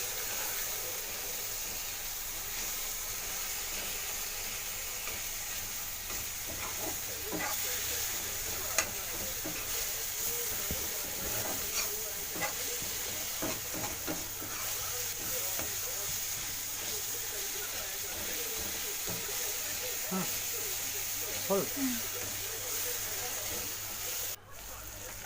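Tomatoes cook with a little water in a pan, giving a steady soft sizzle and hiss that persists throughout, with light stirring scrapes scattered over it.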